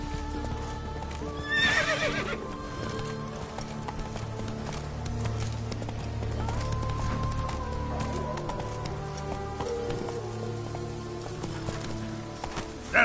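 Roach, a horse in The Witcher 3, gallops with steady clip-clop hoofbeats and whinnies over continuous game music, close and prominent.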